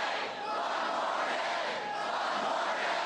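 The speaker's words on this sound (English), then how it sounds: "One more day, Governor Romney's supporters chanted this morning in the main hangar at the Avion Jet Center." A large crowd of rally supporters chants in unison inside the main hangar of an airport jet center during a campaign event, a dense, loud, continuous roar of voices filling the space for several seconds.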